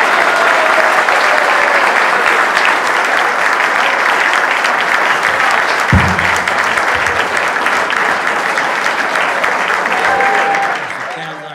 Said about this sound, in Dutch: Misschien een beetje applaus